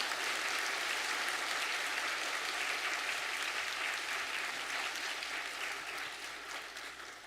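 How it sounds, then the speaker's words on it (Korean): A congregation at a Sunday Korean Presbyterian church service applauds newly baptized members, steady dense clapping throughout that slowly tapers near the end. "박수하겠습니다"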